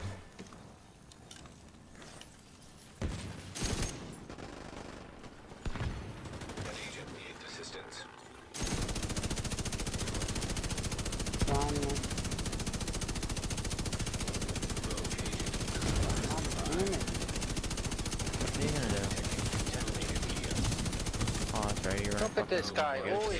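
Gunfire in the shooter The Division 2: scattered shots at first, then a long loud stretch of sustained automatic fire with rapid bursts, mixed with game sounds and a player talking over the shooting.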